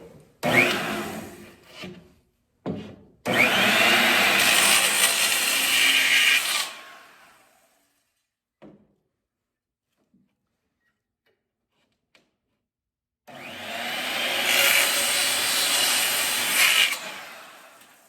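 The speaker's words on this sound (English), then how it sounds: "got about like 30 skill saws, so I decided to grab the oldest one, right? Here we go." Old Skil circular saw cutting wood for a jon boat build, two loud sustained whining cuts separated by quiet, with short starts and clunks at the beginning and faint handling knocks between.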